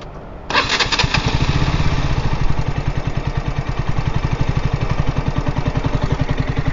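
A KTM RC125 motorcycle engine fires up after a brief crank and settles into a steady, loud, close idle with a rapid even putter that continues to the end.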